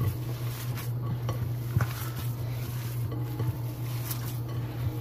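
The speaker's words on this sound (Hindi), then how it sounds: "और इन मसालों को मिक्स कर लेंगे" Dry garam masala, coriander and cumin powders being mixed in a bowl or pan: soft scraping and light clinking of a spoon against metal, with a steady low hum underneath, no talk.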